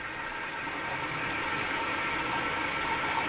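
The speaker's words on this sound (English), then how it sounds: "Maybe you can see when I flush it, the water squirts to that." A toilet flushing, water squirting and beating against the inside of the bowl over softener pellets, a steady close rushing wash that holds at an even level throughout with no pause.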